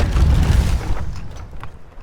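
A trebuchet fires in the video game Conan Exiles, giving a loud, low booming thud with a mechanical rumble that fades away over about two seconds.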